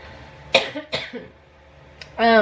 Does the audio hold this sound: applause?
no